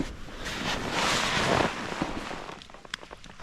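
Blizzard wind blowing against a tent on a winter mountain, a swelling gust rushing loudly then easing, followed by fabric flapping and sharp snapping ticks up close.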